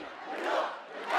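Protest crowd in Ramallah, a dense mass of voices roaring and chanting together, swelling louder in waves with no single speaker standing out.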